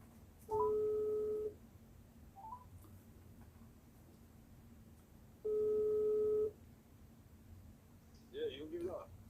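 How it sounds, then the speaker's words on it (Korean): A telephone call being placed, with two long electronic ringback tones about five seconds apart, each lasting roughly a second, separated by quiet room noise and a few faint tones, then brief garbled voice at the end. "전화하겠습니다"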